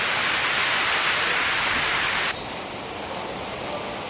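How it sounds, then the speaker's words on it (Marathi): Heavy night rain pours down in a Khandesh village onto a flooded road, a constant broadband hiss that drops to a slightly quieter, duller wash about halfway through, with no voices. "लाईटाच्या प्रकाशाने तुम्हाला दिसतच असणार पाऊस कसा पडतोय"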